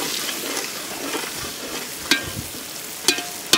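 Tomatoes hit hot oil in a pot of desi chicken curry cooked outdoors by a riverside, giving a steady close sizzle and frying hiss, with a few sharp clinks of a spoon or utensil against the pot near the end.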